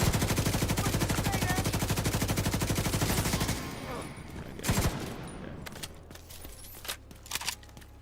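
Automatic rifle fire from The Division 2 as a full magazine is emptied: a loud, rapid, steady stream of shots for about three and a half seconds, then a few scattered, quieter clicks and thuds.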